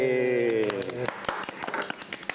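Scattered hand claps ring out after a held musical tone fades, irregular and fairly close, a small group clapping with voices faintly mixed in.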